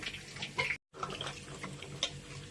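Raw green tamarinds rinsed in water, with close sloshing, splashing and dripping that continue throughout apart from one brief break in the sound.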